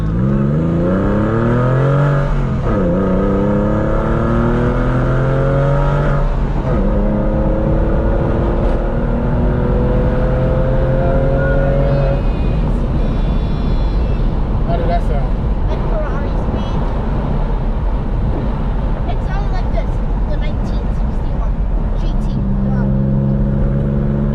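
A Porsche 911 996 fitted with a Fister exhaust revs hard and loud, its engine note climbing and falling through repeated rising sweeps for over twenty seconds up close, with people talking underneath.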